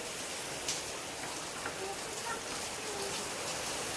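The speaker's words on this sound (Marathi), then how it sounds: "पाऊस भरपूर पडतोय" Heavy monsoon rain falling outdoors, a dense steady hiss of drops that stays constant throughout, with faint background sounds underneath.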